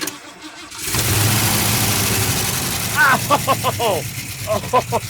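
Engine of a 1977 Ford F100 pickup cranking and catching, a brief starter whir rising into a rough running rumble, then speech over the engine sound near the end.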